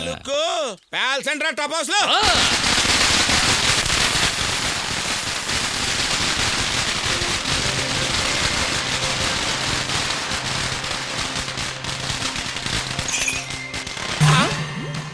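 Festival firecrackers crackle in a dense, continuous burst of sharp pops and hiss, loud and close, after a few seconds of speech at the start.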